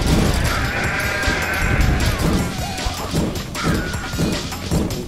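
In a chaotic deer simulator video game, sheep bleat several times over loud crashing and smashing game noise, with a dense, busy mix throughout.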